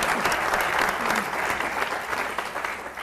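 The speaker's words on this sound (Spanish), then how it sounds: "Otro aplauso por eso." An audience at an anniversary event for a Canal Capital analysis programme claps loudly and continuously, a dense wash of applause from start to finish with no voices over it.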